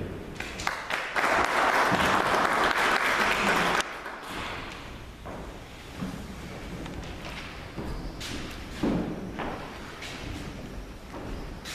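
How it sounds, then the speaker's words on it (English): Attendees at a municipal stakeholder consultation meeting in Okahandja clap loudly for about four seconds, then the applause fades into murmuring room noise broken by occasional thumps and knocks. "Can we give him another round of applause, please?"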